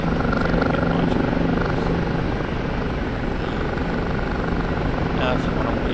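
A Kiowa helicopter flies in a flight simulation game, giving a dense, constant rotor and engine drone that barely changes in level. Someone talks over the noise.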